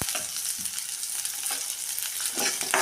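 Onion masala frying in oil in a pan for egg sambar, a continuous close-up sizzle broken by a few soft scrapes of a spoon stirring, without any talk.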